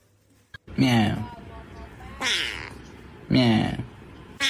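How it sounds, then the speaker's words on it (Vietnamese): A cat meows three times in drawn-out, wavering calls, loud and close, spaced about a second apart with quiet gaps between. "Mèo."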